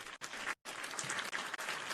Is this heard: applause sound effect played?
yes